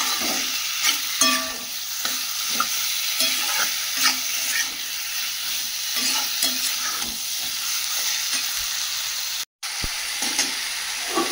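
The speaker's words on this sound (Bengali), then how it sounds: "মাংসটা দিয়ে ভালো করে কষিয়ে নেব।" Meat stir-fried (kosha) in a pan with potatoes to be added, a steady close sizzle and hiss with scraping stirs throughout, no talk, and one brief dropout near the end.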